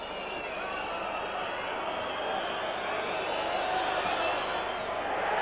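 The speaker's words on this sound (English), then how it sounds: "the crowd like it" A rugby league crowd at Sheffield Eagles versus Oldham in the 1991/92 Divisional Premiership roars after a goal kick, a broad, steady, distant cheer that holds and swells slightly across the whole stretch.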